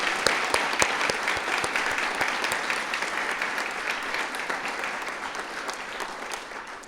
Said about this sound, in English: Please give another rousing round of applause for all of the students that participated in this year's Next Great Idea.